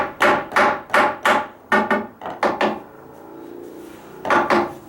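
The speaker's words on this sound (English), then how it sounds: "The trick with that is I want to get the nail all the way in." Hammer strikes drive a nail into a metal joist hanger in a deck repair, a series of sharp ringing blows in quick bursts, a short pause, then a final pair of hits.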